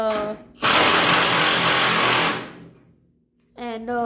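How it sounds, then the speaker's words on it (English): Power tool driving lower A-frame bolts on a vehicle, a loud continuous whirring burst of about two seconds, preceded and followed by a voice speaking close by. "Right now, he is changing the lower A-frame bolts."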